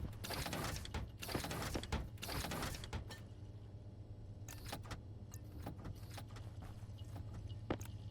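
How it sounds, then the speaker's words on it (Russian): An electronics printer in the space-colony game Stationeers runs with dense mechanical whirring and clattering for about three seconds, then settles into a low hum broken by a few sharp clicks. "Принтер электроники."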